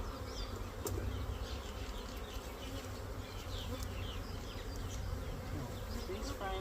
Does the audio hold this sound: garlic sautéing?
no